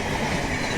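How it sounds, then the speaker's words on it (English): Jan Shatabdi express train running fast past a remote railway gate on the Patna–Howrah route, a loud steady rumble of wagons and wheels close by with no pause. "And another train, fast moving train is coming from Patna"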